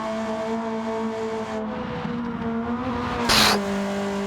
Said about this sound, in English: Check out the sound of this car as well.